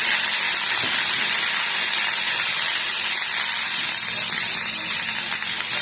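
Cleaned pirandai (adamant creeper) with chillies frying in a pan, giving a steady, loud hiss and sizzle that runs evenly throughout with no voices.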